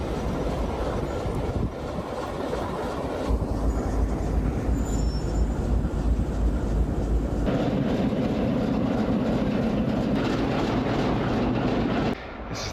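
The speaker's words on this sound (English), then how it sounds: "Well, look at that train." A train rolls past at a railway station in Romania, a steady loud rumble with rail noise that holds for over twelve seconds, then drops off near the end.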